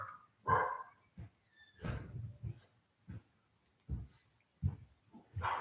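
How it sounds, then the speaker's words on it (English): Small dogs indoors giving a series of short, fairly faint barks and yips spaced across the moment, with a brief whimpering whine between them. "My dogs are freaking out because my mom's going in and out of the door."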